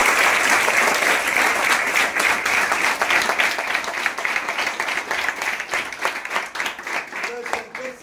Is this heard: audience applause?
yes